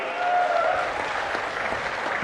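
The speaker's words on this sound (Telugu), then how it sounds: "గట్టిగా చప్పట్లు కొట్టి అభినందించాలి." An audience at a public meeting applauds, a sustained wash of clapping from many hands that holds steady for a couple of seconds.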